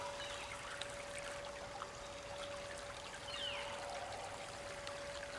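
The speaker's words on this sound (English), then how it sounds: "get a drink from the stream" Stream water trickles and babbles steadily in the wild, a soft continuous flow heard alone at low level with no talk and a faint steady tone running underneath.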